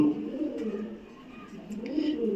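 Domestic pigeons, black and white birds kept in a loft with their young, give low, rolling coos that swell and fade in two slow waves, close by and fairly soft.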